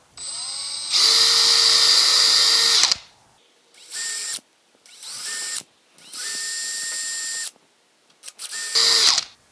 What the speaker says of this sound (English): we got all the holes drilled